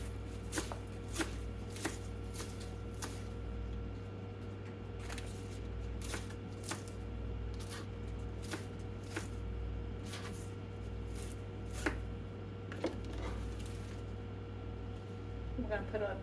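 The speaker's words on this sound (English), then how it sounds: "And I'm going to chop the spinach up." Spinach being chopped with a knife on a board, a series of soft, crisp taps at an uneven pace over a steady low hum, with occasional voices nearby.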